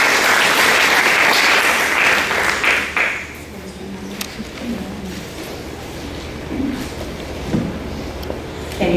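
Audience applause for a speaker named Kay Barton at a talk, a dense broadband clatter of many clapping hands for about three seconds, then fading into quieter room noise with scattered claps and murmurs.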